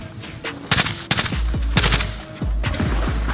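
Gunfire in the Warzone video game, a string of loud, close bursts and single shots in quick irregular succession, with a few heavy impacts standing out over a steady low rumble.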